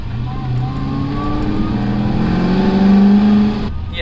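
A supercharged LSA-swapped GTO accelerates hard in cold weather at full boost, a loud steady engine roar with rising pitch that builds and strains before cutting off sharply near the end.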